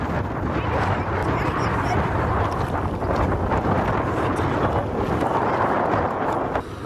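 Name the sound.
wind by a river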